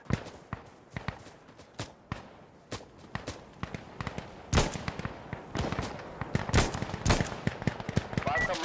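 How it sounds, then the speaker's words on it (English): Gunfire in the tactical shooter Insurgency 2: many sharp shots crack out at irregular intervals, some distant and some close, growing denser and louder in the second half over an ambient battlefield background. "Fire coming in on right."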